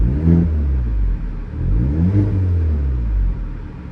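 A 2024 Hyundai Elantra N engine in Sport Plus exhaust mode revs up and down twice, deep rumbling exhaust rising and falling, loud and close with no talking.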